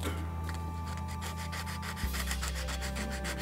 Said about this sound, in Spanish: Ya que está el marco, se lija.